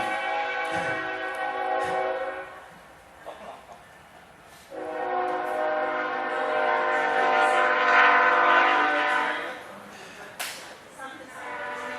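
A loud train horn sounds in long sustained blasts, fading briefly and returning, with rail noise underneath.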